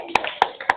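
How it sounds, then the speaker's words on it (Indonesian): Three sharp hand claps made in front of the belly during an early-childhood clapping game, evenly spaced and close, with faint background sound between them. "Tepuk di depan perut."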